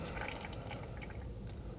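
Brake fluid drains from an opened bleeder screw on a Dodge Durango 5.7L V8 during brake bleeding, giving a faint, soft trickling and dripping under steady background noise, with no talking.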